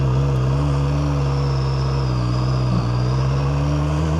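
A QJMotor SRK 921 RR sports motorcycle with a quick shifter and blipper runs close by, its engine droning loud and steady with a slight rise in pitch as it revs, with no voices over it.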